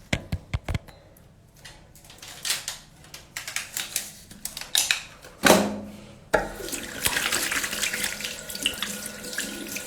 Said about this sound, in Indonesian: Aku cuci tangan dulu